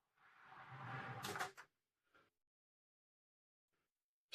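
A closet door in a cruise ship balcony cabin slides or swings open close to the microphone, followed by a couple of brief knocks and clicks in an otherwise quiet room.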